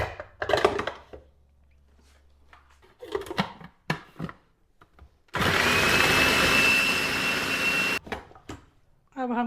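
Electric chopper whirring for nearly three seconds as it chops fresh mint and green chillies for shami kabab, a loud steady buzzing drone that starts and stops abruptly, with someone talking before and after.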